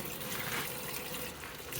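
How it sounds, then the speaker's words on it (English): Cold tap water runs steadily over a felted bar of soap and its felting bag while they are rinsed, a close, continuous splashing trickle that stays even throughout with no talking. "I'm going to rinse both my bag and my soap with cold water"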